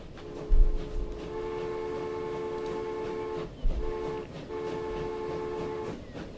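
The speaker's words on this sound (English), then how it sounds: "there goes one of our other passenger trains to complete the scene" A passenger train rolls by in the Transport Fever railway game, a steady, loud rumble of wheels and carriages with a short high whistle at the start and two brief dips in the noise.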